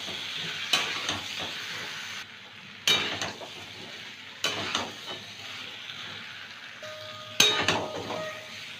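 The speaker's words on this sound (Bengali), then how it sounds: "এবার মটরশুঁটি দিয়ে দেবো খানিকটা, দিয়ে খানিকক্ষণ কষিয়ে নেব।" Kohlrabi curry with green peas being sautéed in a pan, continuous sizzling broken by four sharp spatula scrapes and clinks against the metal at regular intervals.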